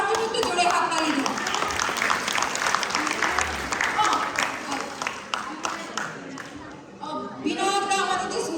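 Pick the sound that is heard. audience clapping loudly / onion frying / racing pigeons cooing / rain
audience clapping loudly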